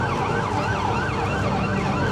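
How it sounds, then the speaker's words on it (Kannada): A siren wailing from a boat at a waterfront during an air show, loud and continuous with a rising and falling pitch that repeats in quick cycles. "There is a ಬೋಟಲ್ಲಿ siren."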